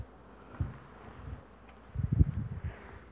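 Honey bees buzzing around hives in mid-March: a faint, steady outdoor hum with soft swells as insects pass close, fairly quiet with light background noise.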